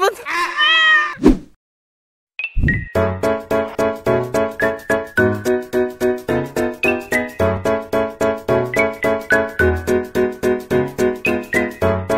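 Cats meowing with a playful stylized voice, a drawn-out meow and then a fast rhythmic string of repeated meows over a backbeat, loud and close, with no speech over them.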